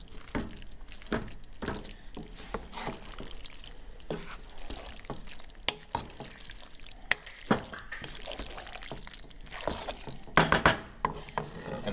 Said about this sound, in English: we're going to add our grated Parmesan cheese and stir that in good.